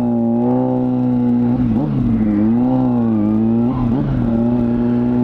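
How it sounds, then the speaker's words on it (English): A car engine drones in road traffic nearby. The loud, continuous hum rises and falls in pitch as it revs and eases. "Oh, look at this traffic."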